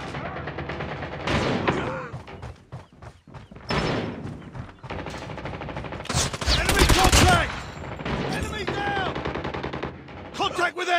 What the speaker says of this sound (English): I got shot!